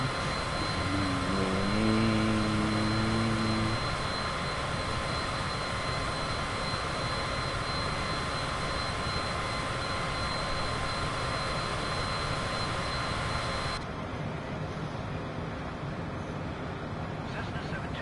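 Cessna light aircraft engine in Microsoft Flight Simulator 2024, a steady loud drone that runs for the whole stretch and drops slightly toward the end, with a short tonal chirp early on and no voices.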